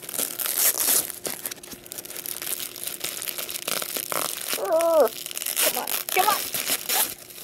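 Crinkly plastic packaging being torn open and crumpled around a cheap imported wallet, a run of close, uneven rustles and tears with a person talking over part of it.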